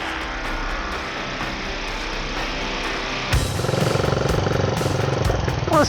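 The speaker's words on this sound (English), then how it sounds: "let's fire up this Cub" A small Cub motorcycle engine idles steadily, then at the three-second mark revs up louder and busier, its running note continuing close by with no talk.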